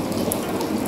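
Rain falls outdoors in a steady, close hiss of drops hitting a surface, brief and without any voices over it.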